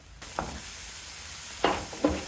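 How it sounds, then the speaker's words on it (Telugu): Onions with cumin, mustard seeds and green chillies fry in a pan under a low, steady sizzle, with a few brief louder bursts as the mixture is stirred. "జీలకర్ర ఆవాలు ఉల్లిపాయలు పచ్చిమిరపకాయలు వేసి ఒకసారి తిప్పుదాం ఉల్లిపాయలు వేగుతున్నాయి కదా"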